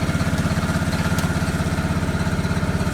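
An old tractor engine runs steadily at idle nearby, a rhythmic chugging pulse with no talk over it.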